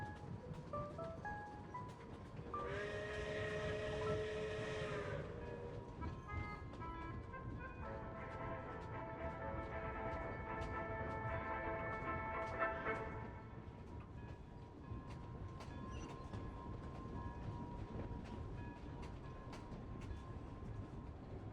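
Train pulling into a public station in Genshin Impact, with a sustained horn-like tonal blast near the start, followed by a longer second tonal passage over steady rumbling rail noise, fading to a quieter hum.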